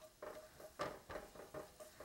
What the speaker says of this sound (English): I can hear the garlic sizzling a little